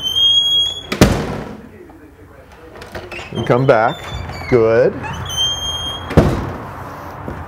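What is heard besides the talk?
door being closed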